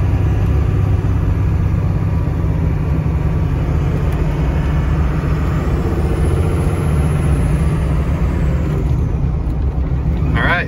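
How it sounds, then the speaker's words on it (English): A Ford F250 Super Duty with a swapped-in Cummins diesel idles close by in a loud, steady low rumble, with a high turbo whistle that rises and fades partway through. "And you can hear the turbo, you can hear the engine."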